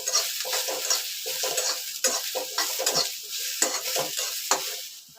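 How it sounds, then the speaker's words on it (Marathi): Onion being stirred and fried in a pan on the stove, a steady sizzle broken by repeated scraping strokes of a spoon against the pan, close and fairly loud with no talk. "आणि आता मी कांदा भाजून घेते."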